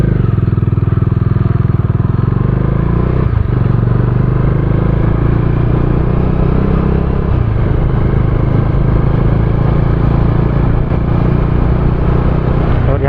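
A Bajaj Dominar motorcycle on a solo ride through a border valley, its engine droning loud and close with steady rumble and wind noise the whole way.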